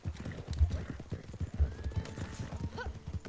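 Horse hooves clip-clop in a foggy video game as the rider mounts, a steady rhythmic patter of hoofbeats at moderate volume with a faint whinny-like tone near the end.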